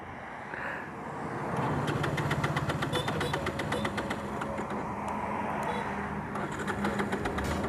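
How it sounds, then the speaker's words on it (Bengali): A motorbike engine restarting after stalling in the sun on a Sunday group ride, then settling into a steady close idle with a rhythmic, slightly knocking pulse, no voices over it. "হঠাৎ করে আমাদের বাইকের স্টার্ট বন্ধ হয়ে গিয়েছিল, আবার স্টার্ট হয়ে গেছে।"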